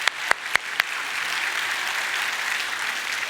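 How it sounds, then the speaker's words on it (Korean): Congregation applauding in a church service to welcome visiting missionaries: a few sharp individual claps at first, then steady, even applause from the whole room that holds at a moderate level. "우리 박수로 한번 환영하겠습니다."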